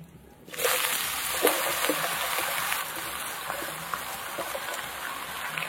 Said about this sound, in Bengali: কেটে রাখা লাউ দিয়ে দেবো